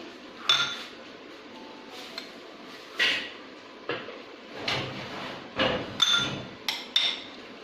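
Fruit chaat being mixed with a spoon in a bowl: a run of sharp knocks and bright clinks in an uneven rhythm, close up, with no speech.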